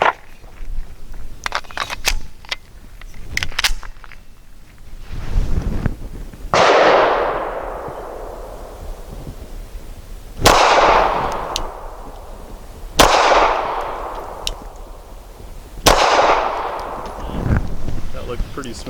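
Pistol shots from an Archon Type B firing brass-jacketed rounds at a range, several loud sharp reports spaced a few seconds apart, each trailing off in a long echoing decay, with quieter clicks and handling noise between.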